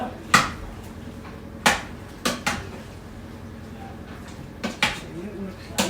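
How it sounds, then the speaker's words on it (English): Clattering of a utensil against the inner pot of an Instant Pot while beef stroganoff meat is stirred: several sharp, separate knocks and scrapes, close and fairly quiet, spaced irregularly over a low background. "Stir it all up."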